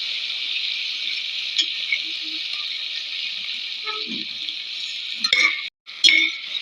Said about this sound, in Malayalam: അത് നമുക്ക് വറവിലിടാം